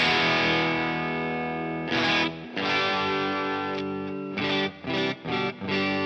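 Guitar through the GigFast Mobile amp app on a mid-range heavy preset, a sustained distorted tone ringing at moderate volume, with a few short choppy stabs and gaps near the end.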